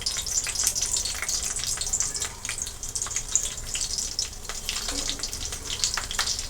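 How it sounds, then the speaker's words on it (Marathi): Crushed garlic dropped into well-heated oil for a soybean dish, giving a steady bright crackling sizzle with scattered pops, close and continuous without speech. "आता तेल चांगलं गरम झालेलं आहे मी ठेचलेलं लसूण आहे हा टाकून घेते याच्यामध्ये"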